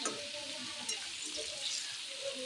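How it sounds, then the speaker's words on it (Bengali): Mixed vegetables frying in a pan with turmeric and salt for a vegetarian offering, stirred steadily, giving a continuous close sizzle with faint scraping through the short stretch and no talk. "এখন নাড়ে দিই ভালো করে, আস্তে আস্তে মজবে।"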